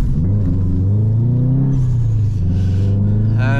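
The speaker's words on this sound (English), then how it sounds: "the way that this car just initially pulls away, it's, you feel the diffs like almost locking up" A 470 hp Subaru Impreza STI with a built engine pulls away hard, its loud, steady engine drone rising in pitch under acceleration, heard close from inside the car with no talking.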